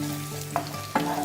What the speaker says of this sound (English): to a medium to hot pan we add the olive oil and then we add chopped onion